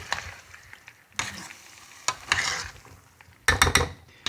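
Salad ingredients tossed together with lardons in a bowl or pan give irregular bursts of scraping and clinking from a utensil, with short pauses between strokes and a louder clatter of metal near the end.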